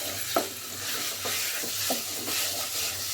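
Taro and potato sautéing with spices in a pan: a steady broad sizzle with a spatula scraping and stirring in a few soft, irregular strokes, close and alone.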